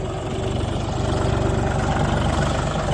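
A DongFeng 244 Lux tractor on wide 11.2-24 tires, paired with a Solis 1.5 rotary tiller, idles loudly and close by during loading, a steady low diesel rumble with even rhythmic pulsing and no voices.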